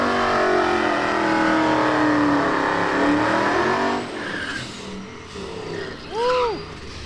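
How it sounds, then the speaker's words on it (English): Turbocharged New Edge Ford Mustang accelerating hard at a street race event, a loud revving engine rising in pitch for several seconds, then fading as the car passes, followed by a brief tire chirp or skid. "You hear the turbo doing work under the hood of that New Edge Mustang."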